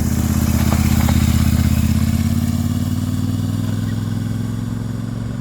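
Royal Enfield Super Meteor 650 motorcycle idling on its stock exhaust, a close, steady, even thump of the parallel-twin engine with a faint mechanical clatter, holding constant for the whole stretch with no voices.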